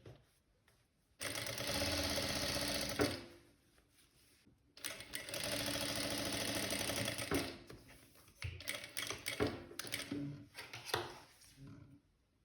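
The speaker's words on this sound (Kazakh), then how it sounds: "Енді тартып отырып, ортасынан тігіс жүргіземін." An electric sewing machine runs a seam down the middle of a fabric turban in two long bursts of fast, even stitching, each a few seconds long, then stops and makes short clicks and handling noises.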